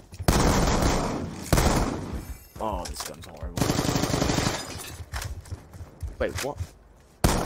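Rapid automatic gunfire from Call of Duty: Black Ops 2, loud bursts in close succession with short gaps, a player speaking briefly over the shooting.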